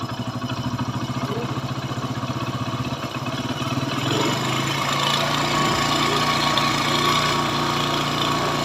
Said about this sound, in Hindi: तो हमारा बाइक स्टार्ट हो चुका है। अब इसी के साथ थोड़ा हमें सबसे पहले जो आरपीएम का स्क्रू होता है इसे हम बढ़ाएंगे।